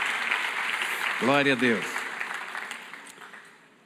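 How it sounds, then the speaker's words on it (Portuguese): A church congregation at a Baptist morning service applauding, a broad steady wash of clapping that slowly fades, with a short spoken phrase rising over it midway. "Vamos aplaudir o Senhor."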